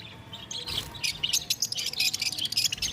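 Java sparrows, adult bonded pairs in a bird seller's shop, chirping in quick bright bursts after a quiet start, several calls overlapping close by.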